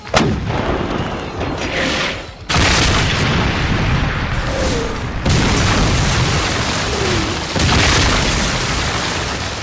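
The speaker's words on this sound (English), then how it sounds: "Marshal Venner orders his artillery to fire on pre-sighted points." Heavy artillery cannons firing in a Warhammer 40k battle scene, a series of loud booming blasts with long rumbling tails, several distinct shots separated by brief gaps, close and powerful.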